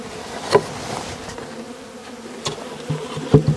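Steady buzzing of many honeybees around hives in an apiary, a continuous drone with occasional louder passes near the microphone and no talking.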